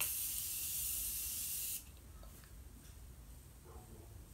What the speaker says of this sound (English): I love how it's not your typical spray. Like, it's a mist.